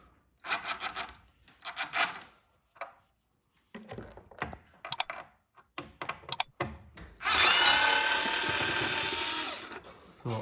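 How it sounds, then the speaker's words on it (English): Unscrewing the battery cover on a LiftMaster garage door opener: short bursts of a powered screwdriver whirring in separate pulses, small clicks and rattles between, then one longer sustained whir near the end, close and clear. "So now I am gonna unscrew the battery and get it"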